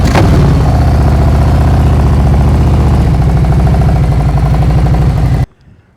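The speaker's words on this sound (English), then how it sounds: "What I'm always focusing on is how this motorcycle sounds" A motorcycle engine runs loud and close at low speed during slow-speed riding practice in Ohio, a steady throbbing idle with slight revving, cutting off abruptly near the end.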